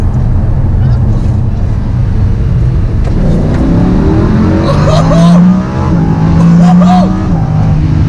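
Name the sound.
Lamborghini Huracan sports car engine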